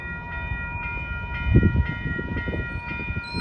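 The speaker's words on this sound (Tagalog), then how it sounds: "Ayun yung train." A train pulls out of a station with a low rumbling roll and rhythmic clatter, a steady tonal hum or horn-like whine sustained above it, fairly close and without talk.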